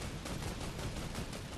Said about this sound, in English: Oh, they're shooting at us.